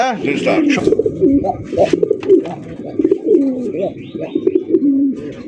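Several racer pigeons coo in repeated throaty rolls, close by, with someone talking over them throughout and a few higher chirps mixed in.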